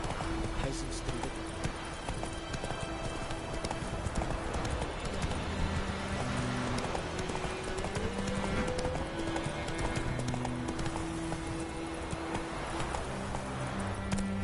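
Horse Roach galloping in The Witcher 3 video game, a fast continuous clip-clop of hooves running steadily throughout, with game music and ambient tones layered underneath.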